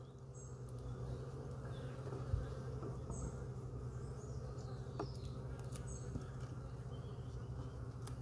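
Honeybees hum steadily inside an opened hive during an autumn inspection, a continuous low drone with faint scattered higher buzzes, close and even throughout with no talking.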